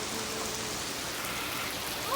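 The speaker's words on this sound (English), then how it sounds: "So basically it is raining" Steady rain pours down during a flash flood storm in Wood County, West Virginia, a dense continuous hiss of drops on surfaces, loud and close with no voices.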